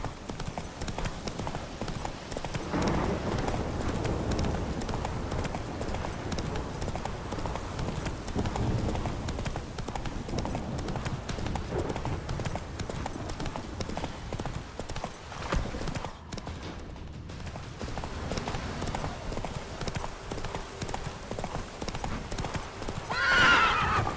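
Steady clip-clop of a horse's hooves galloping through an open world RPG video game, loud and continuous with occasional whinnies and a brief pause partway through, no talking.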